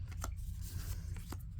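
Botan Tarot cards are shuffled by hand in a few quick, soft riffling bursts, close and quiet over a low background hum, with no talking.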